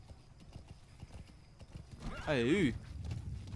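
In Metal Gear Solid V, a horse's hooves clip-clop in a steady rhythm, then the horse gives a short, prominent whinny, while someone talks over the scene.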